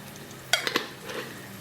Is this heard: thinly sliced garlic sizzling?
yes